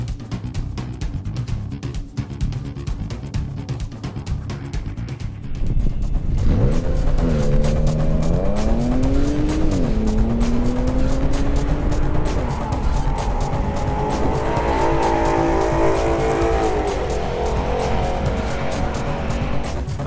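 A stock 2013 Audi S4 launches hard down a quarter-mile drag strip, engine revving up through rising gears with tire squeal, loud and close, after a stretch of idling rumble.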